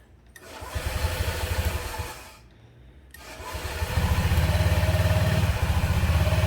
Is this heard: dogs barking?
no